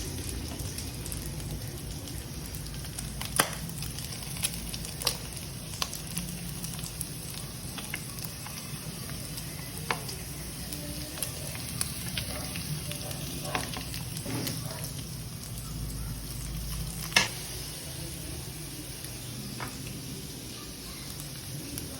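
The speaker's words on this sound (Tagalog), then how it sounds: "Pwede natin ilagay ang carrots" Carrots sizzle in a pan of hot oil, a steady close frying hiss with occasional sharper pops and crackles throughout, no voices.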